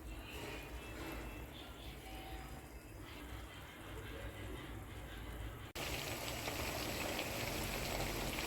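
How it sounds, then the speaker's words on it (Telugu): Homemade ghee made from melted butter boils in a pan on a stove with a dense, steady bubbling and crackling up close. Partway through, the sound turns louder and brighter. "ఒకసారి నెయ్యి ఎలా మరుగుతుందో ఒకసారి చూద్దామండి."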